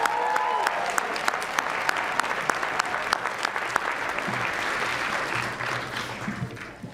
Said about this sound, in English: Can we give Anthony one more round of applause?